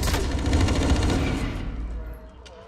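Dense, loud automatic gunfire from the shooter game Blacklight Retribution, a continuous close rattle for over a second that then thins and fades out.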